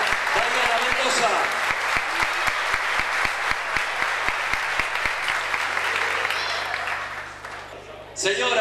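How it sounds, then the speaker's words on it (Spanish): Audience applause for a pageant princess at a regional beauty pageant, a loud, sustained wave of clapping that tapers off near the end before a voice comes in. "El aplauso entonces para nuestra segunda princesa, Daniela Mendoza."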